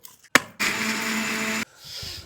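A kitchen mixer grinds prawn masala of coconut, poppy seeds, coriander, garlic and ginger, with a sharp click followed by a steady whirring motor run of about a second before it stops.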